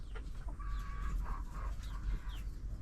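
Laying hens cluck in a coop, several soft calls scattered over steady background noise with no talk.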